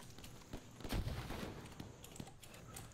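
Gunfire from the video game Insurgency sounds in the distance as scattered faint cracks, with one heavier burst near the middle, over a quiet rustling background.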